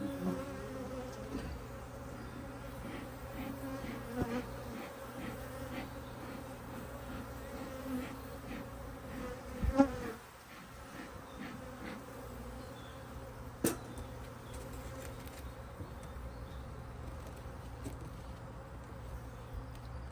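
A dense, continuous buzz of many honey bees at an open hive fills the air for the whole stretch, with a few louder passes close by and a brief knock midway.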